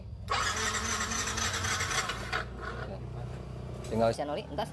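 The electric starter of a Yamaha NMax scooter cranks a seized engine that has had oil poured in through the spark plug hole, whirring and grinding steadily for a few seconds, close by, then stopping as a voice speaks.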